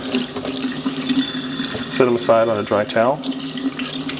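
Cold tap water runs steadily into a kitchen sink while wild ramps are rinsed, a continuous close splashing stream that carries on under a speaking voice.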